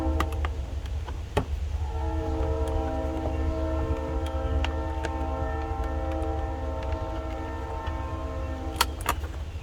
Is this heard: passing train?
yes